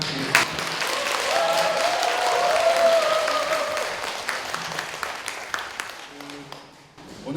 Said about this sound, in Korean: 오늘 너무 떨리는데 잘 할 수 있도록 한 번만 박수 부탁드립니다